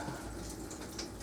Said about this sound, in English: Give that a quick rinse